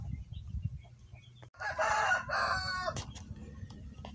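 Backyard chickens in a breeding pen: soft low clucking and rustling, then a rooster lets out one loud, close crow that trails off into quieter clucks.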